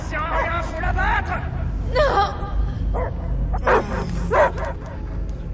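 Dog barks and yips ring out repeatedly in the Guardians of the Galaxy video game, sharp and close, interleaved with whimpers over rumbling background noise while a voice briefly speaks.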